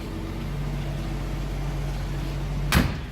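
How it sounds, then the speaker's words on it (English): The door of a 1956 Chevrolet 210 two-door post shuts with one solid, close thunk near the end, heard over the low steady idle of the running engine. "How nice the door closes."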